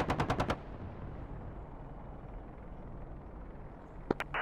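An A-10 gun strafing run in the DCS World combat simulator opens with a rapid, loud burst of automatic fire and then settles into a steady roar. A short second burst cracks out near the end.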